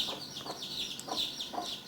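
A dying chick gives a few soft, weak clucking peeps in quick succession, faint and close, with no other sounds around.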